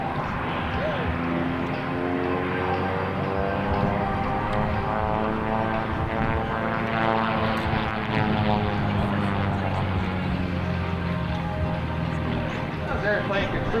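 A gold and blue F-260 propeller aerobatic plane rolls through barrel rolls at a 2003 airshow, its engine droning steadily and loudly with shifting pitch throughout while an announcer talks over it.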